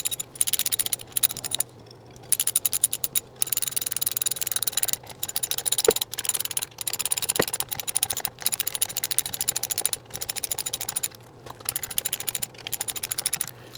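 Metal tool clicks and small taps while tightening bolts on an aluminum gearbox casing during a Triumph TR4 gearbox rebuild; quiet, rapid irregular clicking, like a ratchet, runs throughout, with brief pauses and a few sharper ticks.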